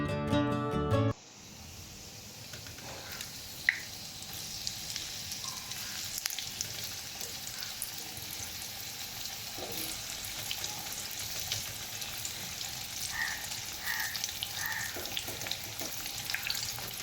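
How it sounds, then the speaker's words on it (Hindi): Mustard seeds, cumin and asafoetida temper in hot oil with ridge gourd pieces added, giving a soft, steady sizzle with faint pops and crackles after a brief louder burst at the start. "तड़के में मैंने तेल के अंदर राई, जीरा और हींग डाला था, और उसके बाद में बस ये सारे जो तुरई के पीस थे ना वो डाल दिए"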